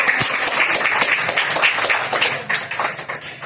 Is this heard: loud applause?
yes